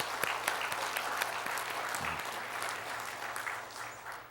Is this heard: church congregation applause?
yes